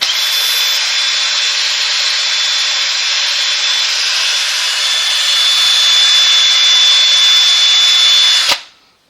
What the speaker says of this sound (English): that was an electric drill with a wire brush